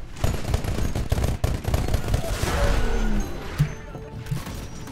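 Bursts of rapid automatic gunfire and heavy impacts in the Titanfall shooter game, loud and continuous with a few sharper booms, over dense battle noise.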